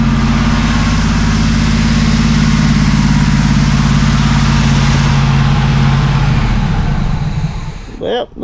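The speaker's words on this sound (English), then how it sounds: "Take a rev now. Get just that idle down just a little bit." A 1979 Chevrolet Camaro Z28 V8 with a freshly rebuilt carburetor idles loudly and steadily, a deep low rumble running close and continuous before stopping near the end.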